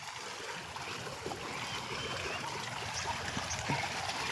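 A steady stream of flowing water rushes continuously outdoors by Bileshwar Dham temple, a full, even wash of sound with no voices.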